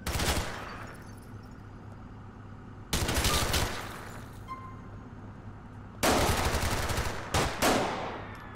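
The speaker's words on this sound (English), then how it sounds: "Shots fired, automatic weapon." Automatic weapon fire from a police patrol shootout in GTA IV, coming in three loud sustained bursts of rapid shots separated by quieter pauses with a low steady hum underneath.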